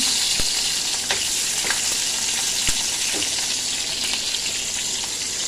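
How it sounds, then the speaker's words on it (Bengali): Onion and green chili hit hot oil with a bay leaf already in the pan, giving a steady close sizzle and frying hiss throughout, punctuated by a few sharp spatula clicks and scrapes. "তো তেজপাতা দিয়ে দিলাম, এবারে পেঁয়াজ আর লঙ্কাটা দিলাম,"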